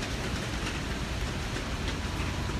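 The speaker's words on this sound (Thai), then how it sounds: "ฝนตกแล้ว" Rain falls in a dense, steady hiss with a low rumble underneath, loud and continuous throughout with no voices.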